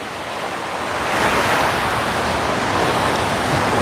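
Waves breaking on a Hawaiian beach of soft sand, a steady close-up roar of surf and wash that swells slightly and then holds, mixed with light wind, with no one talking.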